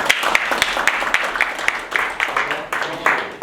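Scattered audience clapping at a lunchtime business talk, a handful of distinct sharp claps rising and fading over a few seconds with some murmuring beneath.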